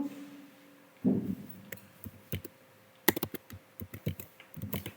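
Code being typed on a computer keyboard while building an Android calculator app, with bursts of quick key clicks and clacks at close range, separated by short pauses.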